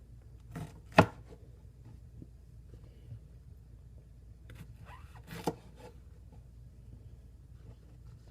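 Knife slicing jalapeno into thick slices on a cutting board, a few sparse, soft cuts with one sharp chop near the start, against a quiet room.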